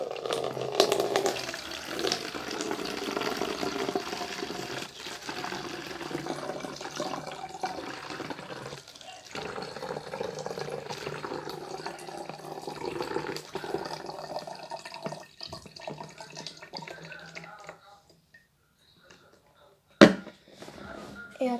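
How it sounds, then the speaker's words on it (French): Vinegar being poured from a bottle into an empty bottle, a steady liquid splashing and trickling stream that stops near the end, followed by a sharp knock, with voices heard in the background. "On va commencer par verser du vinaigre."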